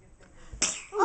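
A young child lets out a single quick sneeze after a soft indrawn breath, close and clear against a quiet room.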